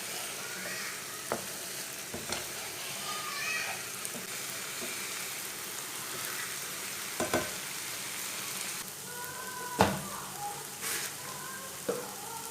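Chopped okra sizzles steadily in a pan on the stove while a spoon stirs it, with a continuous crackling hiss and occasional scraping knocks of the spoon against the pan.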